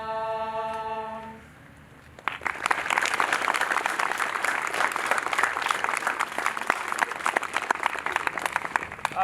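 A graduation ceremony crowd bursts into sustained applause after a quiet, tonal opening, the dense clapping holding steady and full for about seven seconds.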